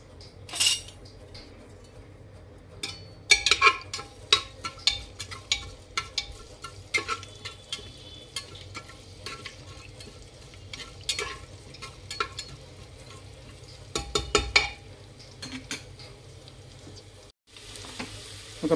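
Cumin seeds and garlic hit hot oil in a pan over a high gas flame, giving a low steady sizzle broken by frequent sharp clinks and scrapes of a metal spoon stirring, with a brief pause near the end.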